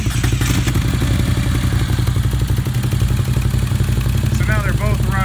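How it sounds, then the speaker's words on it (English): Two Moto Guzzi V7 750 motorcycles with aftermarket exhausts idle together in a loud, steady, throbbing rumble, with a brief voice near the end. "I'm going to go ahead and turn them both out at the same time."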